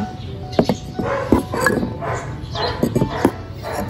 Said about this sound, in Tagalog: Ingay naman ng aso na yun.